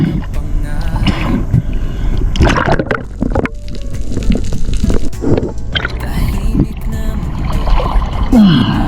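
Water sloshing and splashing around a small boat at sea, with occasional knocks and drips close by under a steady outdoor wash of noise.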